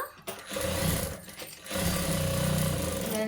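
A sewing machine stitches a puffed blouse sleeve in two steady runs, its motor whirring loudly and continuously with a short pause between bursts.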